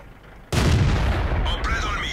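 A tank cannon fires and the round bounces off an enemy tank in World of Tanks, one sudden loud boom after a quiet start, followed by a ringing metallic tail.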